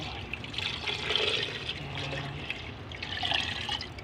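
Molten candle wax pours into a mold for a ring-type candle, a soft continuous liquid trickle and splash heard close and fairly quiet throughout.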